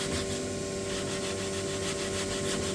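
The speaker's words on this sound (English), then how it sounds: "I'll just come through with this red sandpaper here and just get the edges rounded over a little bit" Red sandpaper rubs along the edges of thick white oak shelves, rounding them over in a steady, close, rhythmic scratchy hiss with a constant hum underneath.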